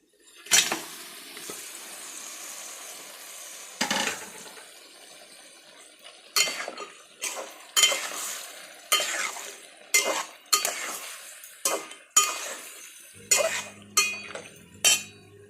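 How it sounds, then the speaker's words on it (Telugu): Mutton pieces fry in a pan for curry, with a soft sizzle under repeated sharp scrapes and clinks of a spoon stirring against the metal, coming in a steady series of close strokes. "మటన్ ముక్కలు వేసేద్దాం."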